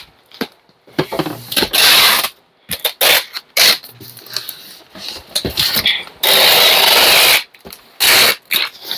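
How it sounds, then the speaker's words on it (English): Packing tape rips off a roll in loud, harsh screeching pulls as it is wrapped around a shipping box for board games, coming in repeated bursts of varying length separated by short pauses. "And then we'll tape over the tape."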